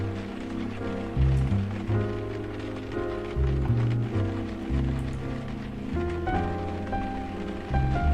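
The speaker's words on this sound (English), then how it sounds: "A quiet night, despite the rain." Steady rain falls through a quiet night in the adventure game Blackwell Epiphany, a soft continuous patter under a looping low musical score with no voices.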